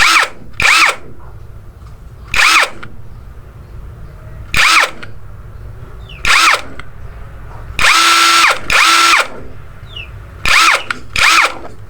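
An NPP cordless impact driver running at speed 2 with auto stop, firing in short loud bursts of whirring and hammering, roughly a second each, separated by pauses of quiet.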